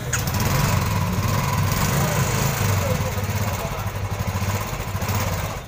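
A gunmetal grey Royal Enfield Bullet 350 with ABS, parked at a Karol Bagh used-bike market, runs close by with a steady thumping single-cylinder idle, loud and continuous under background chatter.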